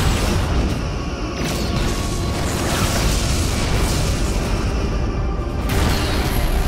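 A Klingon vessel explodes in the Star Trek Legacy space battle game. Loud, continuous rumbling blasts and crackling debris roar without a break, with brief surges as further detonations hit.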